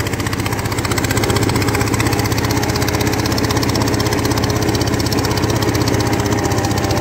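A Fordson Major E27N tractor engine runs in second gear, a loud, close, steady rapid chugging throb that holds even throughout with no one talking.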